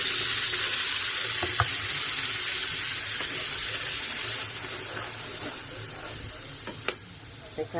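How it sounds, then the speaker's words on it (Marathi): Masala paste roasts in a little oil in a kadai for an egg curry, giving a steady broad sizzle that fades slightly midway, with a few faint clinks of stirring. "आता त्याच कढईमध्ये थोडेसे तेल टाकून आता आपण वाटण पण चांगलं भाजून घेऊया"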